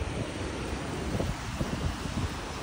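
Steady wind gusting beside the sea on a hot day in Honolulu, Hawaii, a broad continuous rush with low rumbling buffets against the microphone and faint surf beneath, no voices.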